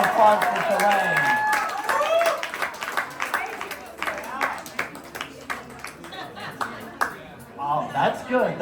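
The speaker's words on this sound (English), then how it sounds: "Round of applause for Shalane" A live audience applauds and cheers for Shalane at her 50th birthday party at South Bay Customs, dense clapping mixed with chatter and laughter, swelling in waves across the room.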